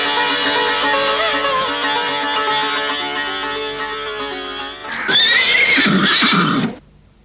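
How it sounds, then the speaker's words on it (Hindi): Horses in an animated Indian folk tale, a strong, close whinny-like call with a steady harmonic tone for about five seconds, then a louder, rougher burst of neighing that cuts off abruptly near the end. "मेरे पास सबसे अच्छे ये 2 घोड़े हैं।"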